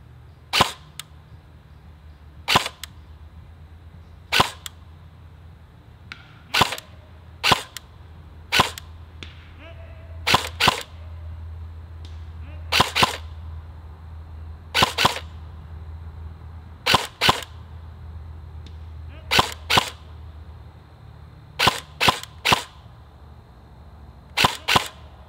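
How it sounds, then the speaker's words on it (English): Single airsoft shots fired one at a time downrange at about 200 feet during a hop-up range test, sharp dry snaps at irregular intervals, sometimes in quick pairs or triplets, over a low steady outdoor hum. "So we're trying 200 now"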